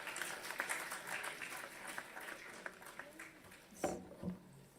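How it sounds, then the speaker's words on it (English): An audience at the KVRSS 25th Annual Science Awards Function applauds the young winners, a steady, moderately quiet wash of clapping lasting several seconds, with a few louder claps and voices surfacing near the end. "Give them a big loud of applause, please."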